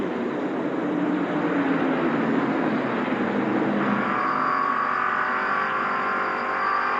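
NASCAR stock cars race at Darlington in the 1990 Southern 500, a steady loud engine roar that shifts in pitch as cars pass, no commentary heard.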